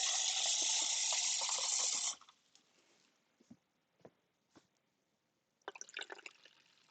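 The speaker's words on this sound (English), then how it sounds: "So I'm just adding more tap water to get it up to a volume where it's easier to actually work with here." Tap water poured from a faucet into fabric dye, a loud continuous pour for two seconds, then quiet with several faint drips and trickles before a short burst of splashing at the end.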